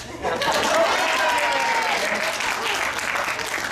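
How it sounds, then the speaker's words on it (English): A live audience at a comedy show breaks into steady, dense applause that swells quickly and holds at full strength throughout. "It's generally customary to applaud"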